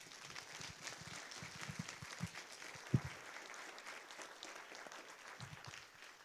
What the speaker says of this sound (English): So please give our expert panel a round of applause.